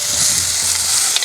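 Ingredients for kurinja sundal sautéing in a pan before grated coconut goes in: a loud, continuous close sizzle with soft stirring, no talk.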